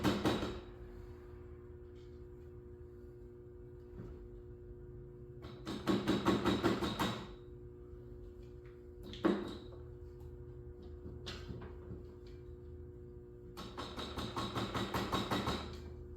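Hammer blows against the side of a Suzuki DR-Z400SM engine during a 434 big bore build, knocking dowel pins loose; several bursts of rapid, close metallic taps come in clusters, separated by quiet gaps and a few single knocks.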